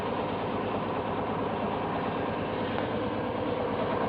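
Tractor pulling a Brillion cultivator through wet ground, its engine running with a steady, loud low drone that never lets up, no talk over it.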